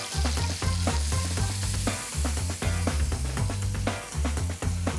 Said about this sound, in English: we're gonna add in the cinnamon stick and star anise. Give it a quick stir